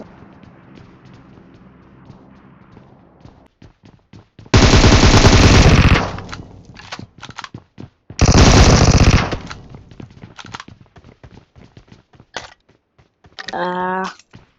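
Bursts of rapid Uzi submachine gun fire in PUBG Mobile, two long dense volleys and a shorter one near the end, loud and close, with clicking taps and game sounds between them.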